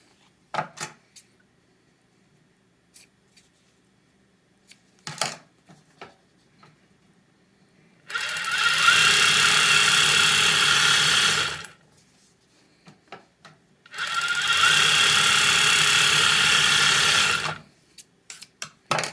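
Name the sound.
Merrow sewing machine running during a thread tension test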